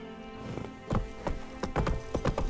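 Roach, the horse in The Witcher 3, with hooves clip-clopping in a steady walking rhythm close by and a short whinny mixed in, over quiet game ambience.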